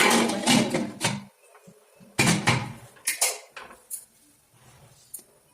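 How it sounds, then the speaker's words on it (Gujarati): Metal clanks and clatters in short bursts as a pressure cooker lid is handled and its whistle removed close by, with brief pauses between. "કુકરનું ઢાંકણ હોય છે લેવાનું છે અને એની જે આ ઉપરની સીટી હોય છે આપણે કાઢી લેવાની છે"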